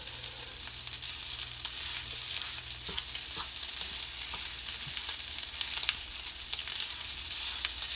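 Shrimp fried rice sizzles steadily in a hot pan while being stirred, a continuous bright crackle with occasional scraping clicks and no voices.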